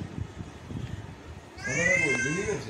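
A timid cat hiding under a bed lets out a single long, wavering meow, close and fairly quiet, after a stretch of soft room noise.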